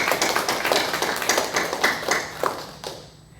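A church congregation claps together at a Sunday service, a quick patter of many hands that tapers off and fades out within a few seconds.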